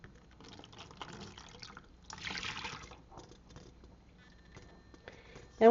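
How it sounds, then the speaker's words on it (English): Liquid gelatin mixture poured into a mold for a homemade gel printing plate: a short soft liquid pour in a quiet room, with faint handling noises and a sudden louder knock at the very end. "I pour it into the mold."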